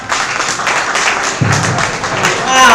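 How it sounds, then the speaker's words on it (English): Audience applause after a lecture at a public image seminar, moderate clapping from a room of people with a few louder thumps, and a voice speaks over it near the end. "Wow, a round of applause."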